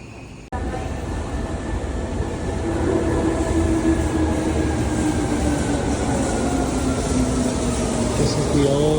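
An old yellow Seibu Shinjuku Line commuter train in Tokyo, heard from inside as a loud, steady roar of wheels and motors with faint rail clatter, continuing throughout, with muffled voices in the background.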